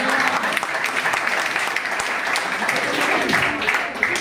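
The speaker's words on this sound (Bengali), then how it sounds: "জোরে হাততালি দাও" An audience at a marketing plan meeting applauds loudly and steadily, dense clapping filling the room, with faint voices underneath.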